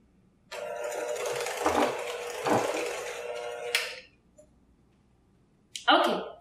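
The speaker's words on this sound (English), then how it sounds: "the mixer and we're gonna beat both sugars with the butter until we get a creamy texture" A stand mixer beats butter with two sugars, running as a steady whir for about three seconds, stopping, then starting again briefly near the end.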